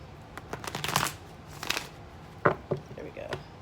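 A tarot deck is shuffled in quick bursts of riffling and slapping cards, close by and fairly soft, with short pauses between the shuffles.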